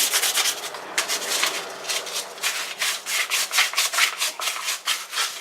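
Varnished surface lightly sanded by hand to scuff the finish, with quick close back-and-forth rubbing strokes in a steady rhythm and no voices.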